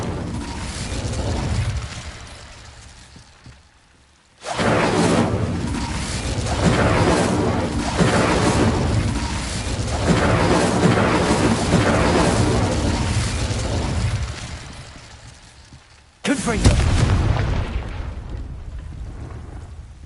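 Fiery spell blasts from a Harry Potter video game roar in long, loud rumbling bursts with crackling, explosion-like bodies, one fading out before a sudden new surge near the end.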